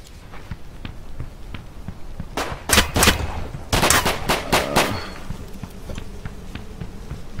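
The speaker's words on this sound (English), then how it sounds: "Whoever it is shooting at me again." Gunfire in the Dead Side video game: a cluster of sharp, loud shots cracks in quick succession mid-clip, surrounded by fainter distant pops and soft footsteps.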